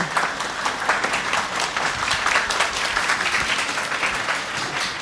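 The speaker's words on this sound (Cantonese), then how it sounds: "聽到咁好嘅掌聲" Enthusiastic applause from parents at a kindergarten graduation ceremony, a dense, even wall of clapping sustained throughout at close range.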